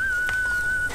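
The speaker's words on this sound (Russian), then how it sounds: "научите меня свистеть" Person whistling a single sustained, steady clear tone lasting just under a second, loud and close, in a wartime drama film.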